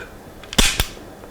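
A Jericho 941 pistol's double-action trigger is pulled on an unloaded gun, giving a pair of sharp mechanical snaps close together, like a staple gun firing. Both are crisp and near, with no talk over them.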